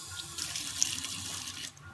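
Water runs from a tap in a continuous, moderately loud hiss and splash that stays steady before dropping off near the end.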